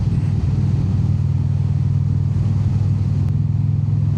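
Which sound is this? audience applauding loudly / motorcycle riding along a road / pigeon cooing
motorcycle riding along a road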